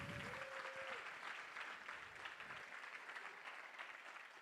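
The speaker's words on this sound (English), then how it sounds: "Another round of applause for Speaker Coughlin." Conference audience applauding Speaker Coughlin at a food security gathering, a steady wash of many hands clapping that holds at even strength for the whole stretch, with a brief faint tone near the start.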